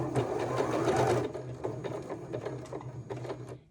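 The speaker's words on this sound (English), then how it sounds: "So let's take out that pin and let's sew with the foot all the way around." Sewing machine running a basting stitch along wide binding on a tank top, a close, busy whir that gives way to rapid, regular mechanical ticking pulses, with no voices.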